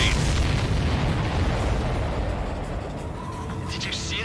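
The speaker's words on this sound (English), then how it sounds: "Did you see that explosion?" Explosion from the Ace Combat 7: Skies Unknown video game during an attack on supply ships, heard as a loud, sustained rumbling boom with dense low-end roar, steady throughout with game sounds layered in.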